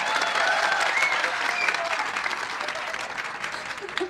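An audience claps steadily at an Urdu literary conference, a dense, sustained wash of hands that fades slightly toward the end.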